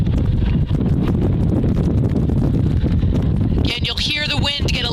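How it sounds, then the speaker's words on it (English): Gusty headwind buffeting an outdoor microphone during the Eastern Women's Sprints rowing final, a steady broadband roar throughout with heavier gusts near the end. "Again, you'll hear the wind get a little bit gustier."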